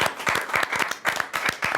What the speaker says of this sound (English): Big round of applause for him as well.